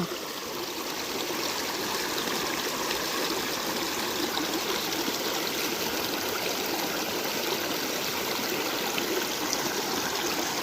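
Steady, broadband rush of river water flowing continuously, close and even throughout with no voices.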